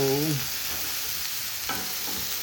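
Sausages sizzle on an outdoor grill during a family Sunday lunch, a steady close crackle with a brief louder stir or scrape near the start and a soft clatter later.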